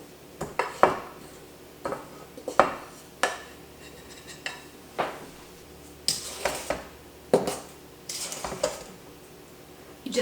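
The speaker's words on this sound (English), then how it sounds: "Last step is to fold the flour in." Maple pound cake batter being folded with sifted flour in a bowl, heard as a series of separate scraping clinks and knocks of a utensil against the dish, fairly close and quiet with pauses between strokes.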